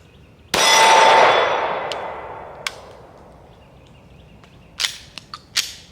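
A Shadow Systems MR920 pistol fires one sharp, loud shot at a range, its report ringing and decaying over a couple of seconds, followed by a few fainter clicks and metallic clacks of handling.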